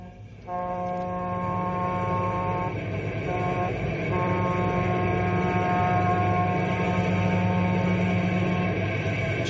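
A train engine runs steadily on the rails with a sustained horn-like tone, loud and continuous throughout after a brief quieter start, with no talking.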